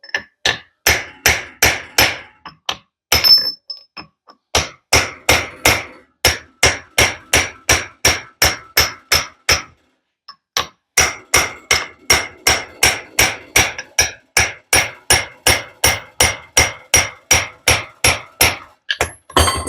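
A hammer strikes metal on a limited slip differential in quick, steady bursts of sharp blows, loud and close, with two brief pauses between the runs.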